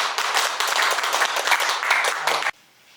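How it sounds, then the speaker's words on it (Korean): A crowd claps steadily in dense applause, loud and close, then the clapping cuts off abruptly into near silence. "박수 한번 자."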